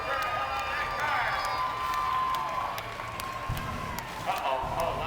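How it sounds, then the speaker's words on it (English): A crowd at a monster truck show featuring Megasaurus claps and cheers in a steady wash of applause, with sharp individual claps standing out, mixed under an announcer's voice. "Let's give him a nice round of applause so far"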